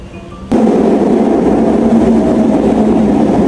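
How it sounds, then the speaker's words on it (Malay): A steady, loud rumble of a moving train from inside a carriage, starting abruptly and continuing evenly with a faint rattling texture. "Ibu ayah bawa kami naik tren"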